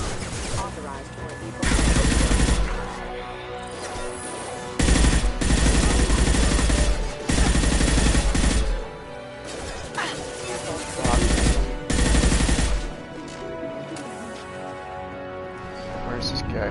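Repeated bursts of automatic gunfire in a Mass Effect 2 firefight, loud sustained volleys roughly every two to three seconds over a steady game soundtrack, with a voice speaking between them.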